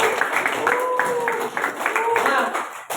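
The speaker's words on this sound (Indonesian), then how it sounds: "Beri tepuk tangan dong untuk saudara ya." A classroom of students claps in quick, close, continuous patter for a few seconds, with faint voices mixed underneath.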